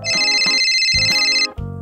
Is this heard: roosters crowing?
no